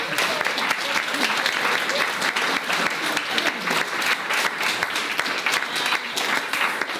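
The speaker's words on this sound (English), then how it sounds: "just keep that applause going for all of our panellists that are looking." An audience claps steadily and enthusiastically for several seconds, a dense, even wash of applause with no voices on top.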